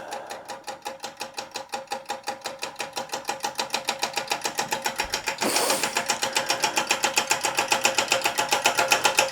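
Hoge electric steamless model engine No.355 running with a fitted solenoid, a fast steady mechanical clatter that speeds up slightly as voltage rises, near and continuous with no talk.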